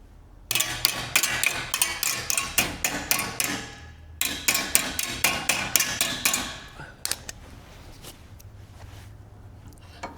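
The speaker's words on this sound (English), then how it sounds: "then I'll hammer it around and then move it as I need to until I get the lip completely formed" Rapid metallic hammer blows ring out in quick bursts while forming a sheet metal lip on a VW fender, pausing briefly between runs, close and loud, with lighter scattered taps toward the end.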